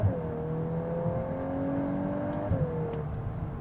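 A car pulls hard in second gear on a test drive, its engine note rising steadily, then dipping briefly at a shift before climbing again, heard from inside the cabin at moderate loudness with no talking.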